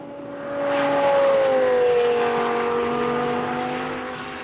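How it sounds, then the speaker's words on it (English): A turbocharged supercar accelerates as its turbo boost spools up, a loud close engine note that swells in the first second, holds a rising tonal whine, then eases slightly near the end. "There's the boost spooling up."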